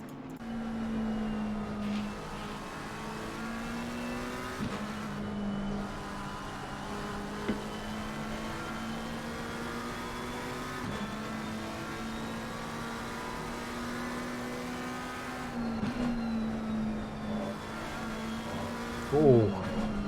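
Race cars lapping Suzuka in the Assetto Corsa Competizione sim racing game, a steady droning engine note that rises through the gears with shifts every few seconds, kept under continuous race commentary.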